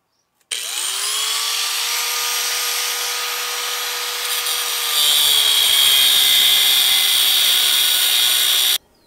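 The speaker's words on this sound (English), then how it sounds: "I'm gonna grind this back really quick with a grinder with the cutting wheel" Angle grinder with a cutting wheel grinding a weld off a muffler on an Integra, a loud close high whine that spins up abruptly, holds steady, then grows harsher and louder as the wheel bites metal before cutting off.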